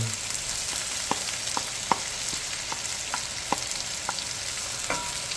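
Onion sizzling steadily in a pan with garlic for a Filipino beef mechado, a continuous close frying hiss broken by repeated soft clicks and scrapes of stirring, with no talking.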